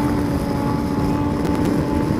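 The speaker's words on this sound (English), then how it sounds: "Now he's doing a sit-down wheelie." A 2020 BMW S1000RR motorcycle engine drones steadily during a sit-down wheelie, a loud constant mid-distance hum with a sustained tonal note throughout.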